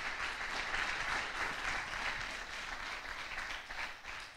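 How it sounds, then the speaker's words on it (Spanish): A church congregation applauds together, a dense, steady wash of clapping held loud for the whole stretch before easing slightly toward the end, with no talk over it. "¿Alguien le puede dar un aplauso a Dios?"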